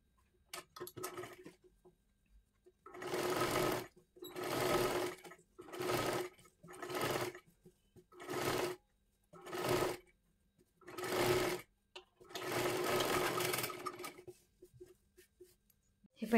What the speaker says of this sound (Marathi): ह्या गोल गळ्याला आपल्याला आता शिलाई मारून घ्यायची आहे.